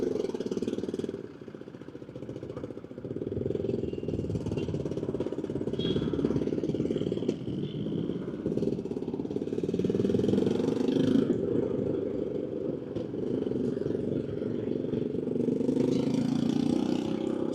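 A motorcycle rides through traffic in Angré, Ivory Coast, lane splitting between cars, its engine a steady mid-pitched drone over continuous road rumble and passing vehicles for the whole stretch.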